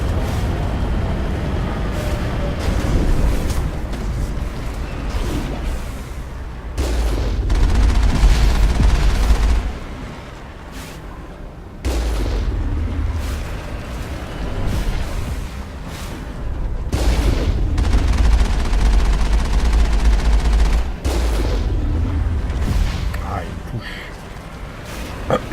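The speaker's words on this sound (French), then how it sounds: "Oh, il nous tire dessus." Enemy gunfire in the Mass Effect video game: bursts of rapid shooting and booming impacts rolling in waves over a dense game soundscape, with a voice talking over it.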